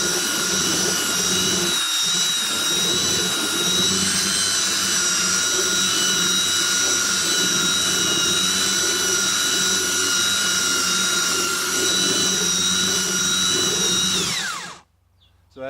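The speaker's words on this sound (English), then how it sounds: "So that's a power sander." A power sander whines steadily and loudly on an old painted wood sign, a constant high-pitched motor drone that runs without pause before cutting off abruptly at the end.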